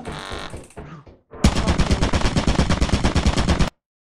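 Gunfire in the video game Lethal Company: a few brief scattered sounds, then a dense, rapid automatic burst of shots lasting about two seconds, loud and close, that ends abruptly.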